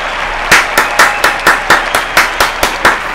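Hand clapping in time, about ten sharp evenly spaced claps close to the microphone over a faint wash of crowd applause from the tennis video game Top Spin 4.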